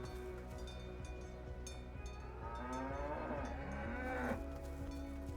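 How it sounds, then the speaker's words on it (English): A cow in the video game Dungeons of Hinterberg gives a long, drawn-out moo that rises and swells over a low, steady background hum, with no voices. "Feed the cow again?"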